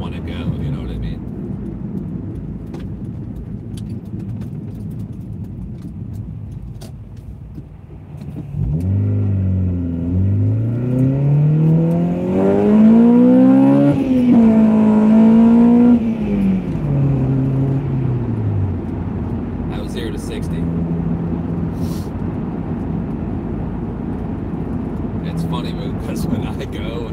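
A car engine revs hard toward 8,500 RPM, its pitch climbing steadily before dropping at the gear shift, then settling into a lower drone, loud and close, with a person talking.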